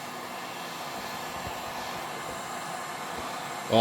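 Heat gun blowing a steady, even whoosh onto a Stihl 026 chainsaw bearing in a workshop, continuous at moderate loudness, with a brief louder clatter at the very end.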